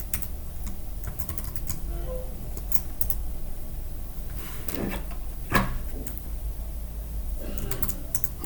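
Typing a password on a computer keyboard, a steady run of close, light key clicks with a louder keystroke midway, like pressing enter, and no talk.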